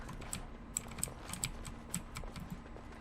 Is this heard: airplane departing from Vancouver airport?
no